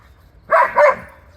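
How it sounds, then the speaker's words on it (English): Two quick, sharp barks from a female shop dog in close succession, loud and near, with no other sound around them. "That's her doing all the barking."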